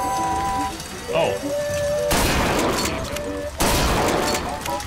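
Rapid gunshots at a carnival shooting gallery in the video game Bioshock Infinite, two dense loud bursts over tinny fairground music and voices.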